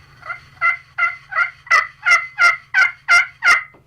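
A purple heart wood striker scratched across a slate turkey call, producing a series of about nine rising, evenly spaced yelps that grow louder and clearer toward the end, close and without any talking.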